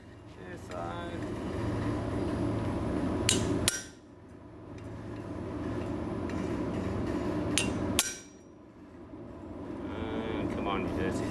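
A hammer strikes a chisel to split material, with sharp metallic blows in bursts separated by pauses, over a steady background hum; people talk nearby.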